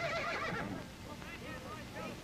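A horse neighs in a Western television drama, a loud whinny at the start followed by softer snorting, with someone talking over it.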